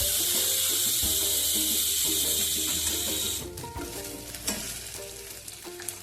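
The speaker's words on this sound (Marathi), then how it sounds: "त्यात आपले छोले शिजत आहे." Chickpeas cooking with ginger and garlic in a pan give off a loud, dense sizzle that drops to a softer, crackling simmer partway through, with no voices.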